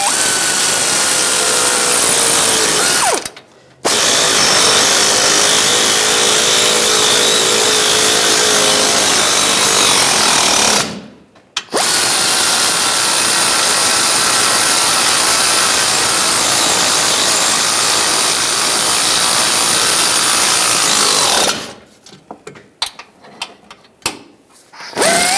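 Power tool driving and tightening the front lower control arm bolts on a 2013-2016 Dodge Dart, loud continuous buzzing whine in long bursts broken by short pauses, ending with a few scattered knocks.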